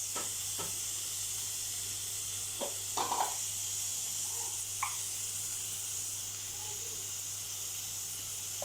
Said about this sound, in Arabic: واشوحها برده مع البصله ومع اللحمه